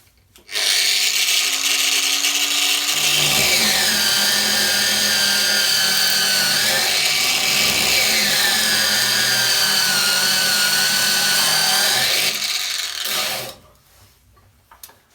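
Metabo W18LBL9-125 cordless angle grinder spinning up at its second speed setting, a loud close whine that holds steady for about twelve seconds, with its pitch dipping briefly under load before it cuts off and dies away.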